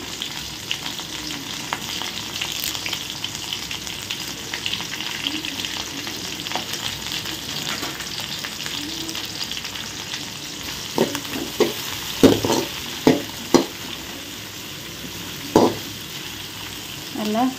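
Onions and curry leaves sauté in hot oil in a pan for a Tamil country-chicken curry, giving a steady close sizzle and fry throughout, with several louder scrapes and clacks of stirring near the end.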